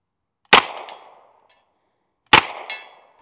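Two single shots from an M1 Thompson submachine gun fired at a target, each a sharp loud crack with a ringing metallic decay, spaced about two seconds apart.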